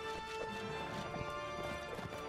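Cavalry horses charge in the Mount and Blade Warband video game, with steady clip-clop hoofbeats and a whinny over a dense, loud battle din throughout.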